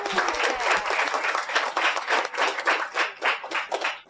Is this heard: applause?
yes